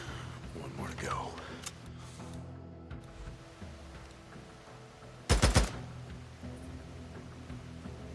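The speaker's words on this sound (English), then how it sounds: "I hear his gunfire." A short burst of rapid gunshots from the video game Days Gone rings out over a busy, rumbling background with voices, the volley lasting about a second.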